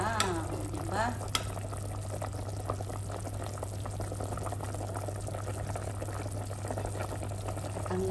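Lamb ribs simmering in a pressure cooker pot give a steady low boiling rumble and faint bubbling, with a brief clink of a utensil near the start.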